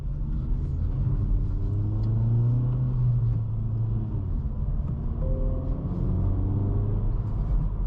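Four-cylinder engine of a 2024 Acura Integra Type S running under load, a steady droning rumble with rising and falling engine tones from inside the car, no talking.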